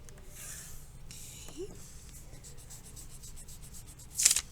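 Pencil lines being drawn on paper along a ruler, with soft scratchy strokes at intervals and a sharper scrape near the end, close and quiet, with no voices.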